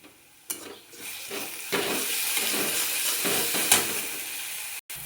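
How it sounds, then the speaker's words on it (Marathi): Garlic, coriander and salt are tipped into a hot pan for frying: a sharp clatter as they land, then a sizzle that builds and holds with a few stirring knocks, ending in a brief cutoff; no one speaks. "तर आता आपण हे तळायला टाकून घेऊया."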